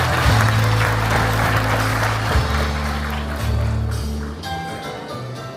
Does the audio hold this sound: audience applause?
yes